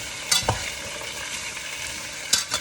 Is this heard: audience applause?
no